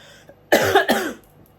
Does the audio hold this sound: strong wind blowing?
no